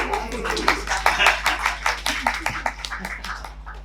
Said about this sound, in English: I think a little clap there.